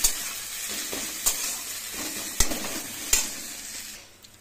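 Spice masala for a bata fish curry fries in a pan over lowered gas. A soft, steady sizzle runs throughout, broken by a few sharp scrapes of stirring, with no talk.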